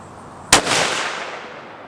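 A single sharp crack from a Savage Axis II 22-250 rifle, followed by a brief echoing tail that fades out.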